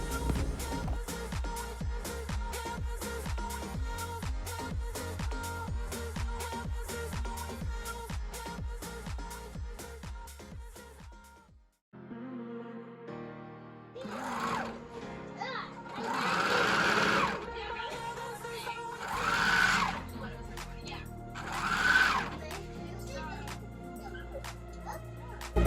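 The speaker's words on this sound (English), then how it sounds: "take it to the serger and serge all the way down" A serger stitches down the sides of a wedding dress bustier: a fast, loud mechanical rattle runs steadily for about eleven seconds, then stops and restarts in shorter uneven bursts.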